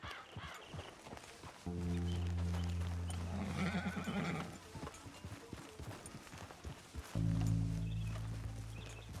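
A horse in the Red Dead Redemption 2 video game gives two loud, drawn-out whinnies separated by a stretch of clip-clopping hooves walking close by.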